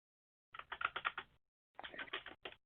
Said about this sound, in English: If someone is typing, so if you could please mute, that would be helpful.